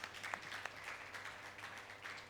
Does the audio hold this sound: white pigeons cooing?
no